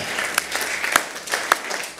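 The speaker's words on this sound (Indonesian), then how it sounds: "Tepuk tangan yang meriah bagi Allah kita." Applause during a church service: scattered hand claps with a few sharp individual claps standing out, moderately loud and continuous.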